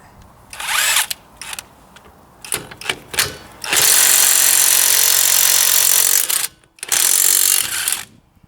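An Einhell IMPAXXO 18 cordless impact wrench loosens car wheel bolts. Short rattling bursts come first, then a long loud hammering run, a brief gap and a second sustained burst, all close up with no speech.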